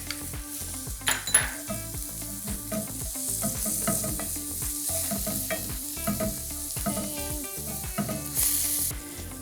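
Carrots go into a pan where pork and bell pepper are frying, with a steady sizzle, a utensil clinking and scraping against the pan, and busy stirring throughout.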